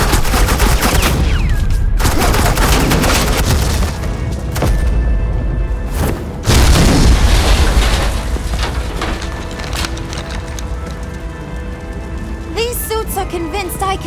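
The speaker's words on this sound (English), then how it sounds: "suppressing fire" Suppressing gunfire in the game Batman: The Enemy Within, a sustained loud barrage of shots and booms over a dramatic score, easing off toward the end.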